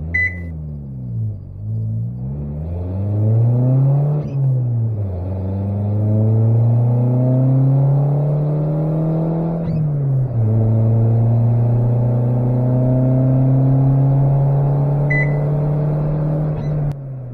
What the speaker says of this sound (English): Let's see how fast we can get to 60 with the smart throttle and the lean burn active.